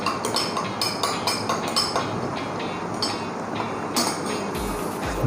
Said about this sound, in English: now we will just mix it using a spoon until everything is nice and well mixed